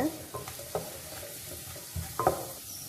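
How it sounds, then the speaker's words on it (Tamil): Garlic sautéing in sesame oil in a pan, with a soft steady sizzle and scattered scrapes from stirring that come and go under the frying hiss, with no talk. "நல்லா இந்த பூண்டு நல்லா எண்ணெயெல்லாம் வதங்கிட்டே இருக்குது"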